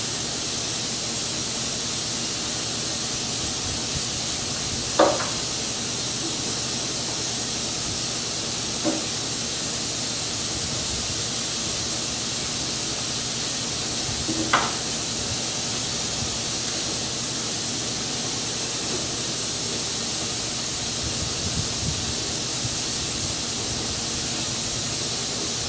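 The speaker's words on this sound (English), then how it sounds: "compressor turned on there" An air compressor feeding a paint sprayer runs with a steady, broadband hiss throughout, joined by a few faint clicks and knocks.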